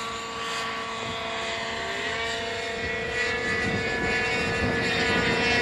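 An RC plane's engine droning as it flies overhead in Tokoroa, a steady buzzing whine that swells slightly as it passes, with wind noise underneath.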